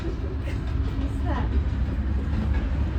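A passing train makes a continuous low rumble with a faint rhythmic rattle of wagons, steady and fairly close, while voices talk over it.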